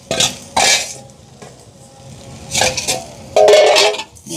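Fried prawns and eggplant are stirred in a clay pot, giving several scraping, clattering bursts of a spoon against the earthenware with soft sizzling between them.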